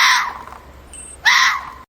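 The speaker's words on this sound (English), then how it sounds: "That's right, it's the fox." A fox gives two sharp, high screaming calls separated by a short pause, loud and close with a faint thin tone between them.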